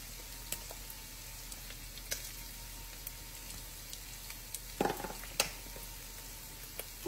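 Ground beef frying in a pan with black pepper and paprika, giving a soft steady sizzle with occasional scrapes and clicks from stirring. The sound is fairly faint, with no talk.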